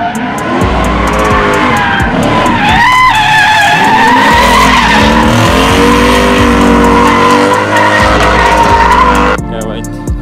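A V8 Miata drifting on a mountain street at night, engine roaring continuously while the tires squeal and skid loudly for the whole stretch before cutting off near the end.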